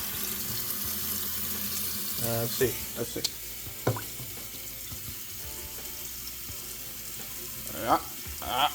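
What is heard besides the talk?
water running into pot to cook rice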